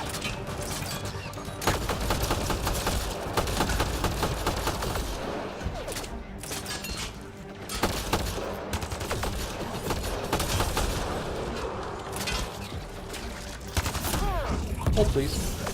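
Shotgun blasts and chaotic combat in the video game Mass Effect Andromeda, with repeated loud booming shots layered over dense battle noise, explosions and a steady game soundtrack throughout.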